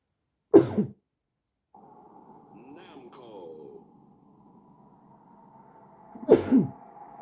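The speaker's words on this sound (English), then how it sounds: "excuse me, I need to sneeze." Two sharp sneezes, one near the start and another several seconds later, with a steady electronic hum and faint music in between.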